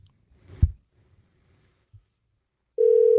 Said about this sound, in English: Making a phone call right now.